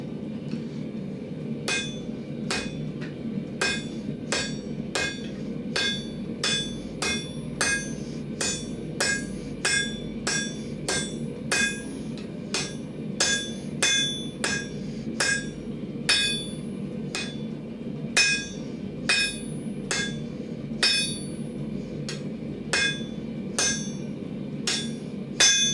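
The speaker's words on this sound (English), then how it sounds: "this is also involves hammering" A blacksmith hammers hot steel into S-hooks with a steady run of sharp ringing strikes on the anvil, close and loud over a constant low roar from the forge.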